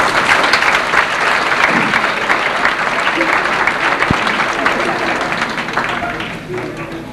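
Audience at a school band banquet breaks into loud, sustained applause that fills the room, dense clapping with a few voices and cheers mixed in, easing slightly toward the end.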